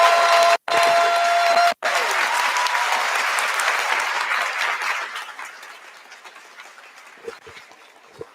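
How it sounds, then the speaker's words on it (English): Loud, dense applause from a senior awards audience for a math award winner, sustained for several seconds before tapering into scattered claps and quiet. "So please, everyone, give a huge round of applause to Miriam Diaz"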